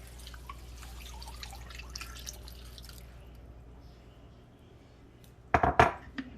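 Liquid soup being poured over rice in a kitchen: soft dripping and trickling through most of the stretch, then a few loud clinks of a pot or utensil near the end.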